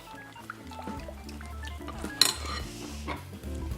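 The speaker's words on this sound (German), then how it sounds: "Dann werde ich jetzt die Soße verrühren." A sauce of mayonnaise and grated ginger stirred in a bowl, a soft clinking of utensil on dish with liquid swishing and one sharper clack midway, close-up and moderately quiet, no speech.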